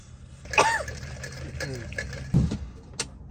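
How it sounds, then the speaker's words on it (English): Several rough throat-clearing coughs inside a van, one near the start and another burst later, over low background hum, with faint voices murmuring. "Welcome to our cough compilation."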